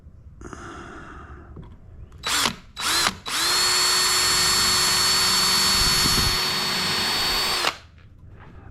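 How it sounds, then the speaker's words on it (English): Power drill used while assembling a small iron workbench, two short trigger blips followed by a long steady high whine of about four seconds that cuts off abruptly, close and loud, no talking. "The drill."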